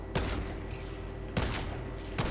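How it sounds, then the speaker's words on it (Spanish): Gunfire in Fortnite Battle Royale: three separate loud bursts of shots, spaced about a second apart, over a constant game ambience with no talking. "Pues me estoy liando a tiros con ellos ya."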